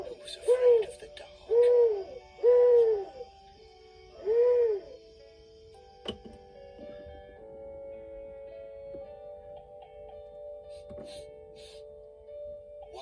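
An owl sound effect gives four distinct, evenly spaced hoots in the first few seconds, followed by quieter sustained tones and faint background sounds.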